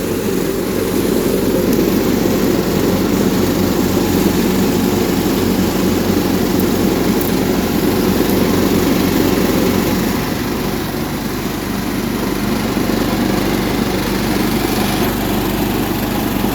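An old Sears garden tractor's small engine drones loudly and steadily at close range, a continuous rough hum with no pauses.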